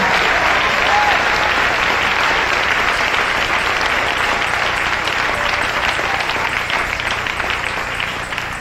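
A church congregation at a Sunday morning service breaks into loud, sustained applause, a thick wash of many clapping hands with a low hum beneath and scattered voices faintly mixed in, tapering slightly toward the end.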